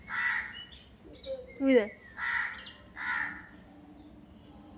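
Crows cawing outdoors in short harsh bursts, several separate calls spread across the moment, with a person speaking briefly between them.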